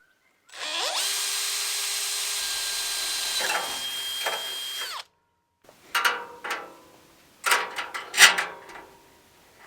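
Several bursts of power drilling into metal: a long steady whine for about four seconds, then a pause and shorter revving pulses that start and stop.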